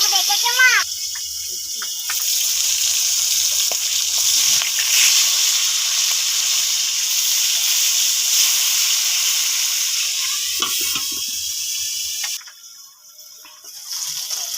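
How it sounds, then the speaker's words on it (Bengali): Pangas fish coated in salt, turmeric and oil fries in hot oil in a hot pan, partly covered, giving a steady loud hiss with a few faint pops and a brief dip in the sizzle near the end. "পাঙাশ মাছ তো ভাজলে ফাটে, সেই জন্য আমি ঢাকা দিয়ে দিয়ে ভেজেছি।"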